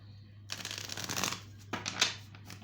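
Tarot cards are shuffled close by in a quick riffling burst, a soft flutter of card edges with a short pause and a second brief flick at the end.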